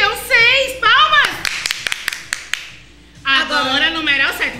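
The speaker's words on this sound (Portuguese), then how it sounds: "Palmas!" Children in a kindergarten class clap their hands in a short burst of sharp, scattered claps between stretches of an adult talking.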